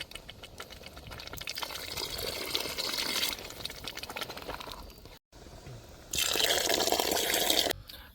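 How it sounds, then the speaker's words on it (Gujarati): Water is poured into tuver thotha, a Gujarati pigeon-pea gravy cooked village style, with a splashing stream that pauses briefly and then returns in a louder final burst. "ત્યારબાદ આપણે એની અંદર ઉમેરશું પાણી"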